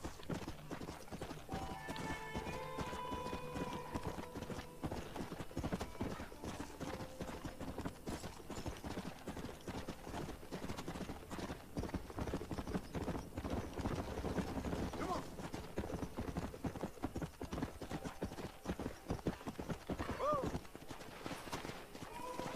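Rhythmic hoofbeats of a galloping horse clatter steadily throughout, with music and other game sounds mixed in around them, in the video game Red Dead Redemption.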